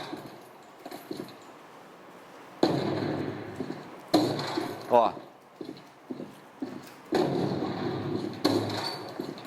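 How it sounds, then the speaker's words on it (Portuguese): Grenade launcher explosions in a video game land as several loud thumping bursts, each with a rumbling tail and varied pitch and volume, separated by quieter gaps, while someone talks over them. "As explosões também tem variação de pitch, variação de volume."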